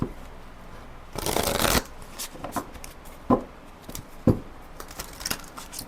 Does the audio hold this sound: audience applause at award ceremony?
no